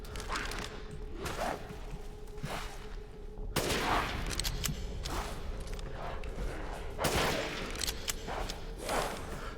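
Gunfire from a Resident Evil game, sharp shots cracking out at irregular intervals, some closer and louder, over a steady ambient hum.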